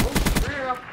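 Rapid gunfire in a Gun Game match of a shooter video game: a quick cluster of about four loud, sharp shots in the first half-second, then a fading ring-out.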